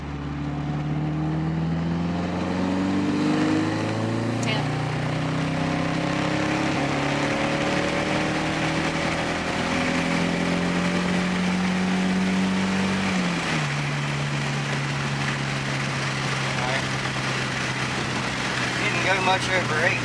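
Nissan 240SX with a turbocharged KA24DET engine and 14 lb wastegate making a pull, a loud continuous engine note rising steadily in pitch for about thirteen seconds, then dropping and holding at a lower drone.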